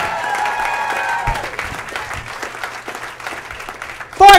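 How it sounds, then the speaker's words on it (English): Comedy club audience bursts into broad, dense applause that holds steady for several seconds, with a brief loud bump at the end. "Give them a big round of applause"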